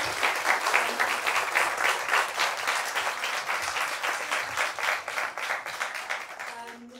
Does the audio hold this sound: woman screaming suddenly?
no